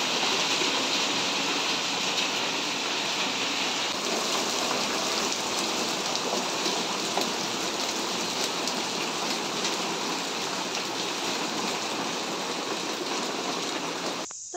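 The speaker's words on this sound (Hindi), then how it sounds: "ये देखिए इस साल की पहली ओलावृष्टि" Hail and rain pouring steadily onto an onion crop in a hill-country field, a dense, continuous hiss of drops striking leaves and ground at an even, loud level throughout, with no voices.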